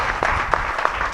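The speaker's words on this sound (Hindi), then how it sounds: "ताली तो मार दो।" Audience at a spiritual discourse clapping briefly, a short burst of scattered, uneven claps lasting about a second, fairly close and moderately loud.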